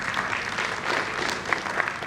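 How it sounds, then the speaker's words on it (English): Staff at a 20th anniversary celebration applaud together, a brief burst of dense clapping from a room of people, fairly loud and steady, with a couple of sharper individual claps near the end. "applause from my staff"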